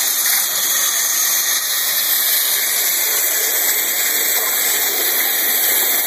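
A waterjet cutter blasting a 50,000 PSI abrasive stream through half-inch aluminum in a machine shop, giving a loud, steady, unbroken high-pitched hiss and roar that holds without pause.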